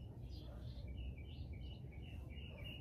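Birds chirp in short, high bursts over a steady low background hum on a morning outdoors, the calls faint and scattered across a few seconds.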